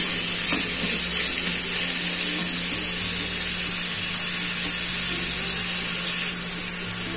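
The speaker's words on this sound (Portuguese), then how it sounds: "Aqui na panela eu já coloquei 1 fio de gordura e vou colocar a nossa moela aqui." Chicken gizzards in a pressure cooker with a little fat and lemon juice fry with a loud, steady broadband sizzle throughout, dropping slightly in level near the end, with no talking.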